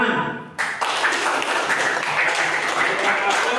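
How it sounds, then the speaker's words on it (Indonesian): A classroom of students claps together after their discussion presentations, the burst starting abruptly and continuing as steady, close hand claps for a few seconds, with a voice briefly audible before it. "Kita sama-sama tepuk tangan."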